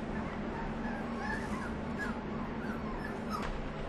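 Puppies whimper and yip faintly in puppy mill cages, thin high cries rising over a steady hum of background noise.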